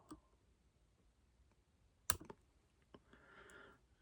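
A single sharp snip of good-quality scissors cutting oval tinsel at a fly-tying bench, one crisp close click with quiet room tone around it.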